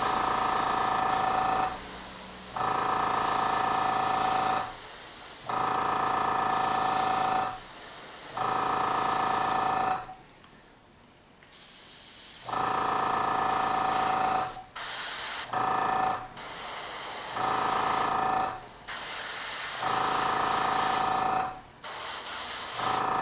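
An airbrush sprays base coat paint onto Ogre Army miniatures, loud and close, in long sputtering hissy bursts broken by short pauses and one longer gap.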